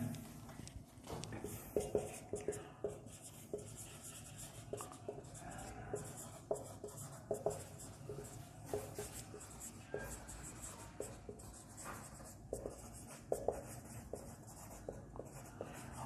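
A marker or chalk writes on a board during a physics class, producing irregular scratchy strokes and taps in quick bursts, close and fairly quiet, with brief pauses between strokes.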